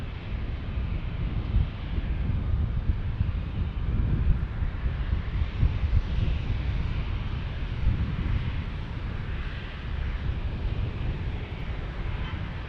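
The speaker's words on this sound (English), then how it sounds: "we got a Praetor 500, an Embraer Praetor next" An Embraer Praetor 500 business jet passes at a busy single-runway airport in San Diego, a continuous broad engine roar with wind buffeting, steady and moderately distant throughout, with no talk.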